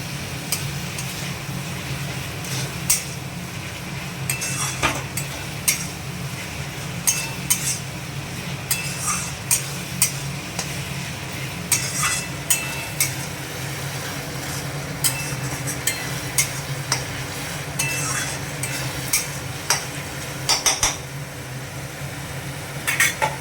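Spices for a mutton curry frying in a pan while a metal spoon stirs and scrapes, giving frequent sharp clinks and knocks over a steady low sizzle, close and fairly loud throughout.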